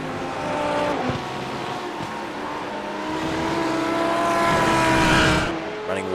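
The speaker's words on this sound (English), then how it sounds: "got one of the Ferraris just coming into shot now" A Ferrari sports car lapping the Donington Grand Prix circuit in iRacing, its engine droning loudly at steady revs and then rising as it comes closer.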